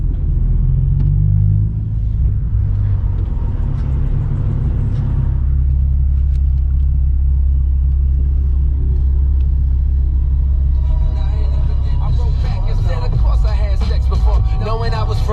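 Low, steady traffic rumble from a city street near the Philly Auto Show, with car engines droning continuously and a brighter burst of passing-vehicle noise toward the end; no speech.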